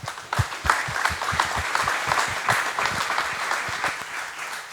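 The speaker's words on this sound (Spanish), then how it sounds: "Les pido un aplauso." A crowd applauds with dense, lively clapping, individual claps audible close by, sustained at a steady level without any talking.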